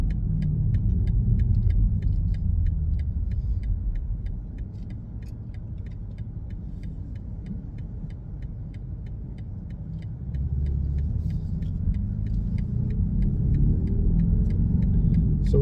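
A 2023 BMW XM SUV accelerates toward highway speed, captured from inside the cabin as a deep engine and road rumble that dips briefly and then builds again, steady throughout with a faint repetitive ticking overhead and no talk.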